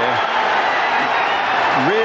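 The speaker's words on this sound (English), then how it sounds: "And a tremendous cheer" A snooker crowd at a Masters final cheers and applauds Mark Williams's win in a broad, sustained roar, with a commentator's voice speaking over it.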